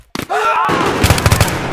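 Gunfire in the Battlefield 3 campaign mission Operation Guillotine: a cluster of rapid shots, then another volley of loud, punchy bursts over a continuous din of game sound.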